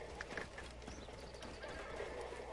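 A horse in the game Assassin's Creed Origins, giving a faint whinny and a few soft hoof clops over a quiet ambient game soundscape.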